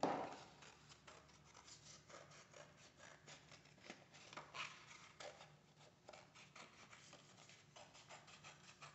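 Scissors snip out a paper heart shape, a faint run of quick rasping cuts in an uneven rhythm, close by and quiet, with no talk.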